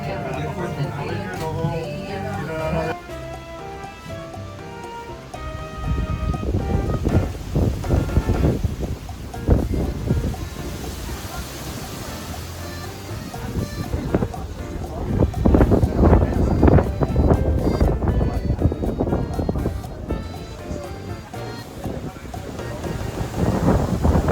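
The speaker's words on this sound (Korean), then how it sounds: "오늘 여기 어마어마한 바람이 불고 있어가지고 거의 태풍급입니다." Very strong wind, almost typhoon strength, blows on the French Way of the Camino de Santiago pilgrimage route in Spain. It batters the microphone with loud, continuous, gusting rumble, and a voice speaks over it.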